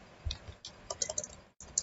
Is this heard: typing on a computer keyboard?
yes